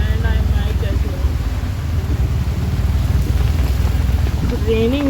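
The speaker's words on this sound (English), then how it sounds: "It's raining very heavily" Heavy rain pours steadily outside a mall in Borivali, a dense, loud, even wash of falling water with a low rumble, continuous for the whole stretch.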